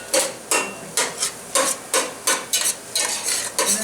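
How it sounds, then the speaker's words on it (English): Sausage and onions are chopped in a frying pan for queso: about a dozen close, sharp utensil strikes in a steady rhythm roughly twice a second, over a faint sizzle, with no talking. "I'm just chopping it up into smaller pieces so that we get it spread out throughout the queso."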